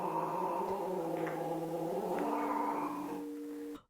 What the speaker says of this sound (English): That's a scream. I love cats.